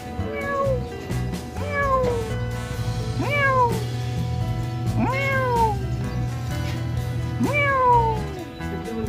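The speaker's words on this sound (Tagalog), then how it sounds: "Ayan pusa." Several cats meow one after another, clear and close, with rising-falling cries spaced a second or two apart over a steady low background hum.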